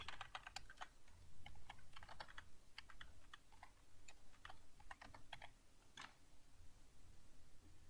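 Quick bursts of keystrokes on a computer keyboard typing out a URL, clicky taps clustered in short runs with brief pauses, close and fairly quiet.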